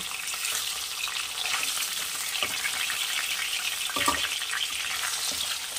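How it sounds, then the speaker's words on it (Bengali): Snakehead murrel fish pieces frying in hot oil for a Bengali curry, a steady close hiss and crackle throughout with occasional stirring clicks. "তুলে নিয়ে আর বাদ বাকি মাছগুলো ভেজে ফিরে আসছি"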